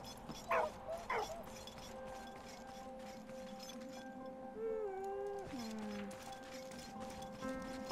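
A dog in the video game Valiant Hearts, set in a war-torn battlefield, gives two sharp barks, then a long, sliding whimper over steady background music and ambience.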